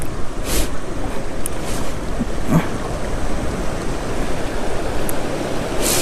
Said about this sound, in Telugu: వాటర్ క్రాసింగ్ మనకు కొత్త కాదు